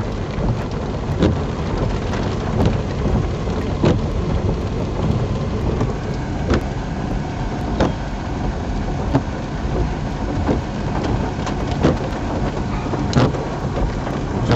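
Steady heavy rain pours down during a Kansas thunderstorm, with a dense constant hiss and repeated sharp crackles of nearby thunder and lightning strikes breaking through at intervals; no talking.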